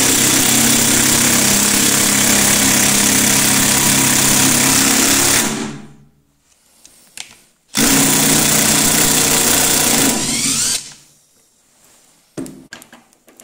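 A Makita DTD172 impact driver in second gear drives a 4x90 screw with a loud, steady buzzing hammer for about five seconds, stops, then runs again in a shorter burst before falling quiet, with no talking.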